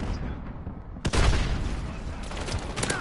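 A shotgun fires in a video game with a sudden, loud blast, followed by a sustained rumbling wash of gunfire and noise that continues with a few sharper cracks.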